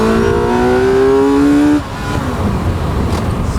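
A 2025 T-Rex RR three-wheeler's small engine revs up loudly with a rising whine, then drops off and settles into a rumbling drive with road noise.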